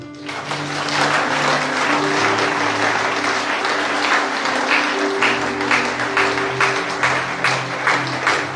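A church congregation bursts into sustained applause to acclaim Jesus, loud and dense throughout, with cheering voices and a sustained tonal accompaniment beneath the clapping.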